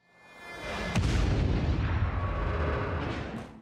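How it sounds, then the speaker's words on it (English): Two crashing ships in The Mandalorian burst into a double explosion, a sharp blast followed by a long, loud rumbling roar that swells and fades, with a second crack near the end. "a knee rocket that clips one ship, which crashes into the other, causing a double explosion worthy of a Michael Bay movie"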